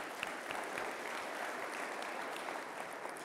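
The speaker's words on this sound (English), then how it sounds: "So a round of applause." An audience at a school's state-of-the-school presentation claps for St. Catherine of Siena girls' school, giving an even, continuous round of applause that holds at a constant level throughout.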